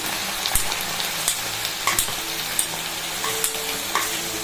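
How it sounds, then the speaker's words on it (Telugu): Steady sizzling as washed Malabar spinach is added to a hot tempering of chillies and capsicum, with intermittent stirring scrapes and clinks, close and fairly loud, no voices. "ఇదే పోపులో కడిగినటువంటి బచ్చల కూరను మనం వేసి"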